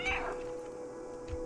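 A single short cat meow from the video game Stray, quiet and brief, with a faint electronic hum underneath.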